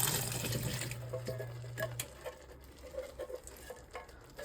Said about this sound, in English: Once you get the cans ready, go ahead and pour it in.